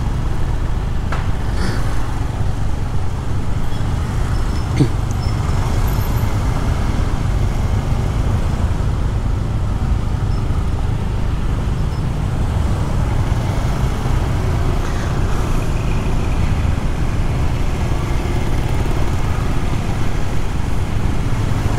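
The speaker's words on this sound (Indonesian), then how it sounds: "panas-panas kena macet ya." A congested road in Bali gives a steady wash of traffic noise, with idling and slowly moving engines held at a constant level throughout and no clear individual events standing out.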